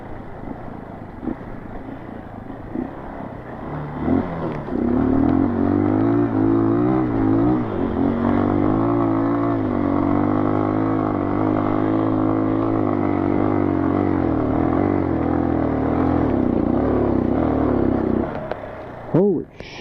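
A new Honda dirt bike climbs a steep hill of soft dirt, its engine holding a loud, sustained strain for most of the run, with people talking faintly at the start.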